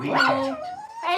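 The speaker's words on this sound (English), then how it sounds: "Dog. That was the dog." A dog barks sharply a couple of times, close and loud, with a person's brief voice mixed in.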